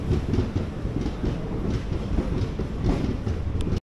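Sri Jagannath Express 18409 running at night on the Kolkata to Puri route, its steady close rumble and rhythmic wheel clatter filling the whole stretch without voices.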